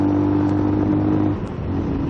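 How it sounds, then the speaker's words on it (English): A small, underpowered engine hums steadily in fourth gear on a long ride, then briefly dips and recovers as the revs sag, staying close and loud throughout. "I can see how underpowered is this engine"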